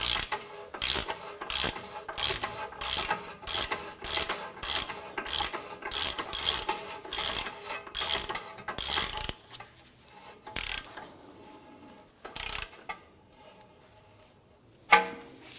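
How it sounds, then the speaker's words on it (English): A hand ratchet snugs down the lower ball joint nut on a 2004–2008 Acura TL, with a fast regular train of about a dozen sharp clicks, then a few slower scattered clicks and a final louder clack. "I'm going to go ahead and snug down our lower ball joint nut here"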